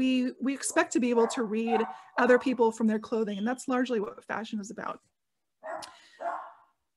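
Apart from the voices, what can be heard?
dog barking in the background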